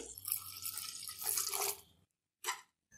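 Water poured from a cup onto sugar in a pan while making syrup for a whole-wheat flour halwa, a steady splashing pour for about two seconds, then silence and a brief second splash near the end.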